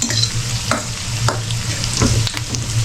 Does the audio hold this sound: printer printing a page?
no